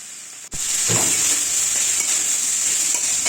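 Squeezed water lily stems dropped into hot oil already tempered with green chillies, for a dish with hilsa fish head: an abrupt splash into a loud, steady sizzle and hiss that keeps going.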